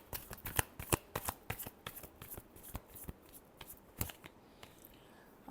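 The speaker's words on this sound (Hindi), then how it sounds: "Last shuffle." Tarot cards being shuffled, a quick run of crisp riffling flicks and papery slaps, close and fairly quiet, with no talk over them.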